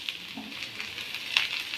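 Garlic frying in hot oil gives a faint, close sizzle with light crackles and a few brief stirring scrapes, steady and quiet throughout.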